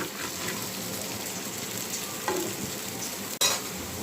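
Spice paste with turmeric and a splash of water sautéing in a pan for a goby fish curry, a steady close sizzling hiss with soft stirring scrapes and a brief sharp knock near the end.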